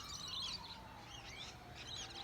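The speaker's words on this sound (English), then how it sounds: "listen to birds wake up" Several birds chirp and tweet in high, overlapping bursts over a steady low hum at an Australian home in the morning, fairly faint and continuous with no talk.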